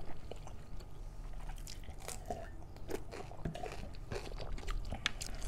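Pork bone from a pork curry with rice is chewed and crunched close to the mic during a mukbang, with irregular soft crunches, wet squishes and clicks of eating that carry on steadily and quietly.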